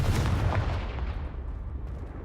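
A Confringo blasting spell explodes in the video game Hogwarts Legacy, one loud booming burst that rumbles deep and slowly fades away over a couple of seconds, with no talk.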